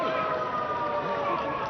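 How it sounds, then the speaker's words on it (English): A loud, sustained stadium siren wails steadily over crowd noise at a rugby sevens match, with a voice talking faintly beneath it. "Siren sounds."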